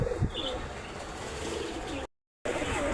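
Pigeons coo in low, throaty bursts close by, with a few soft chirps; the sound briefly cuts out near the end.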